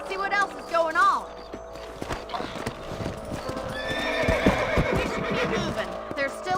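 Horses in the Red Dead Redemption video game whinny several times over the steady clip-clop of hooves, with creaking tack in a busy game soundscape and a voice talking at moments.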